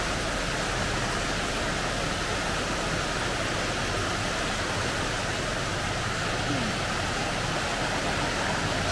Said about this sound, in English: Something about the sound of running water makes you want to go to the loo.